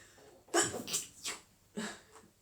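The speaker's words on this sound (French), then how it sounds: "Je l'avais dit que j'allais éternuer." A single close sneeze, a sharp burst with a breathy trail, followed by a couple of softer sniffs.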